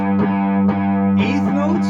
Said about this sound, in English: I'm going to show you the same exercise, also with a little bit of distortion on the guitar, and I'll add some palm muting